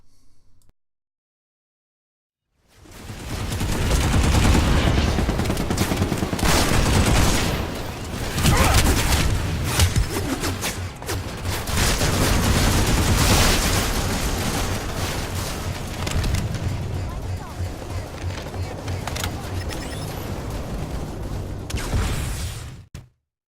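Sustained automatic fire from a Gauss Saw S machine gun in a video game: after a brief quiet start, a loud, dense stream of rapid shots rolls on for about twenty seconds with only brief breaks.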